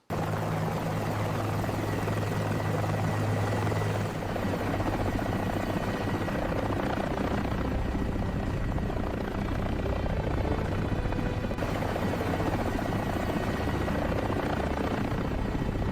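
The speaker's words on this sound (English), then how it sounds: "An helicopter is waiting for us." A helicopter thrums steadily and loudly throughout, its rotor and engine noise filling the whole stretch with no voices.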